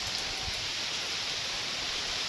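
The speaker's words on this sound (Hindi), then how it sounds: "देख तो सही कितनी टेढ़ी टेढ़ी बारिश पड़ रही है" Heavy, slanting rain pours down as a steady, even hiss that stays constant throughout, fairly soft and with no one speaking.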